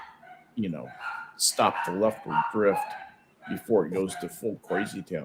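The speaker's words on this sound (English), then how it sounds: "Sorry about the barking dogs." Dogs bark and yip intermittently in the background, partly masked by someone talking steadily over them throughout.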